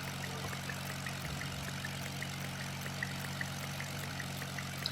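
A helicopter engine in the Roblox video game drones steadily at low volume, a constant low hum with a faint rhythmic rotor pulse and no other sounds.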